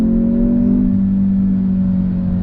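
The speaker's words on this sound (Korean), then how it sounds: "급가속을 했을 때 이 상태에서의 지금 사운드는 이거는 인공 사운드거든요" A Kia Stinger 2.0T rear-wheel-drive sports sedan under hard acceleration in sport mode: a steady, loud engine drone with a strong low hum, partly artificial engine sound, held evenly throughout; no voices.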